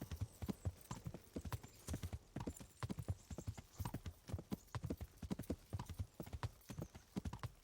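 Video game horse hooves clip-clopping in a steady, rapid rhythm, close and continuous, with occasional faint speech underneath.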